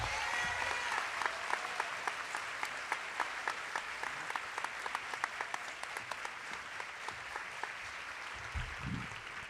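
An audience at a school convocation applauds, a fairly faint but steady patter of many hands clapping that carries on evenly for several seconds, with a brief low sound near the end.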